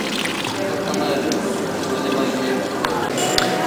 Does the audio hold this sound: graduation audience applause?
no